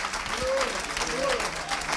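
Congregation at a church service clapping and cheering for God, a continuous dense wash of applause with voices mixed in throughout.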